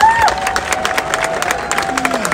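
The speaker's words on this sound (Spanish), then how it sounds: "Un fuerte aplauso para el central Lingo Pedro, por favor, de Oviedo." A crowd at a sports event in Spain cheers and applauds after a centre-back from Oviedo is announced, a steady roar of voices with scattered shouts and clapping throughout.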